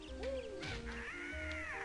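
Cartoonish birds caw and squawk in the Banjo-Kazooie video game, a couple of rising and falling shrill cries close up over game music, lasting under two seconds.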